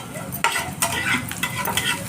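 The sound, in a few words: onions sautéing in oil in a pan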